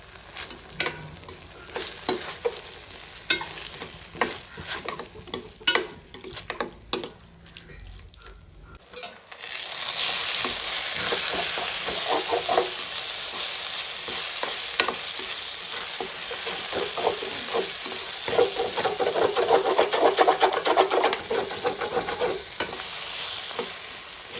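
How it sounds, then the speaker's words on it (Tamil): Onions or masala for chicken curry sauté in a pan over a low flame: spoon stirs and scrapes for a few seconds, then a steady soft sizzle swells and continues close by without talk. "இது அப்படியே லோ ஃப்ளேம்லேயே வதங்கட்டும்."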